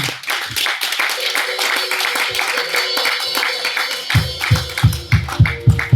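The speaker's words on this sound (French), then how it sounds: "Est-ce que tu peux donner l'acclamation pour toi-même?" A church congregation at a French-language worship service claps rhythmically, the beats growing punchier and heavier in the last couple of seconds, with voices and music-like tones underneath.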